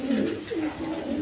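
Pigeons coo softly at a pigeon farm, a low rolling coo repeated several times close by, with no talk.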